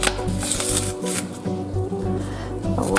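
Celery is diced into small bite-size pieces with a knife on a board for borscht, a few crisp chops at an uneven pace over a continuous background hum, close by.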